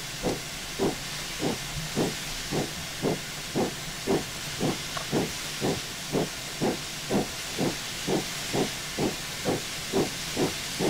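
Steam locomotive LMS No.45596 Bahamas with the blower turned on, giving a constant loud hiss over a regular rhythmic exhaust beat, about two per second, from the footplate.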